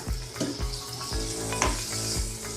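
Brinjal bharta (mashed roasted eggplant) sizzles steadily in a pan, with a continuous frying hiss and a few soft scraping stirs at a regular pace; no one speaks.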